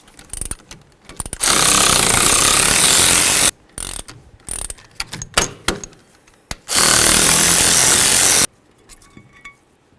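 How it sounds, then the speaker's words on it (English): Rapid ratchet clicking from the caliper bracket bolts coming off the rear brakes of a 1994-2004 Chevy S-10, two long loud bursts separated by shorter clicks and handling clatter, close and with no talking. "Now the next thing we need to do is remove our caliper bracket bolts."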